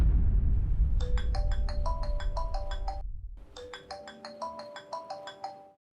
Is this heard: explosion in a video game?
no